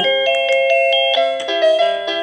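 A Byron wireless doorbell plays a loud, quick melodic tune of bright bell-like notes, close up with no talking.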